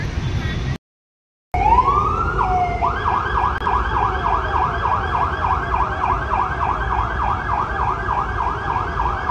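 Emergency siren sounding during a civil defence mock drill in Hyderabad, a loud wailing tone that rises and then cycles rapidly and evenly for several seconds after a brief silent gap, with traffic noise underneath.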